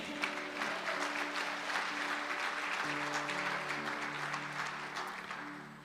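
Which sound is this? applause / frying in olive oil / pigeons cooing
applause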